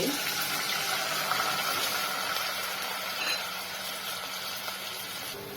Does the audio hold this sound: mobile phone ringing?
no